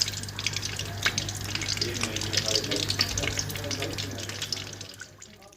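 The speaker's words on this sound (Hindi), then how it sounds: "देखिए, ये हमारी फ़िश फ्राई हो रही है" Fish fillets sizzle in hot oil in a pan while a Lahori-style fish fry cooks, a steady dense crackle with occasional louder pops and a low hum beneath, fading slightly at the end.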